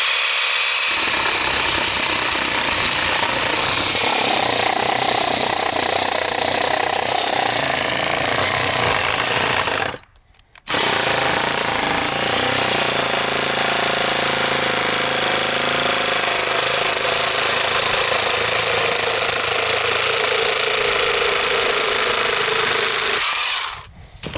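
A loud petrol chainsaw cuts through a wooden board outdoors, a steady roaring whine that stops briefly midway, then resumes until the cut ends.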